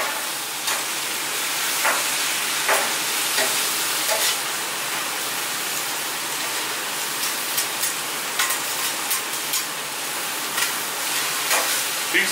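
A T-bone steak sizzles on a hot griddle top with mushrooms, giving a steady frying hiss broken by sharp pops and crackles, with no talking.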